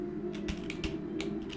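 Quiet, close clicking of a computer keyboard as someone types code, roughly a handful of uneven keystrokes over a steady low hum, with no talking.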